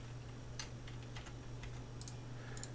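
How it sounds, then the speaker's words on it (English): Someone types on a computer keyboard during a PLC relay lecture. Sparse, faint, crisp key clicks sit over a steady low electrical hum, with no voices. "I can just type it for you."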